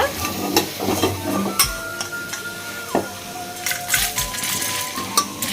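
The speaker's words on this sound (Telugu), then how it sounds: "ఇప్పుడు ఎండుమిర్చి కూడా కొంచెం వేయించుదామండి" Dry red chillies rattle and sizzle in a hot pan as a spoon scrapes and stirs in quick irregular strokes, close up.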